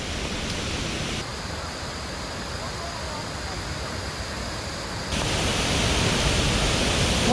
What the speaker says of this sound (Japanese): 熊本県の小国町にある滝です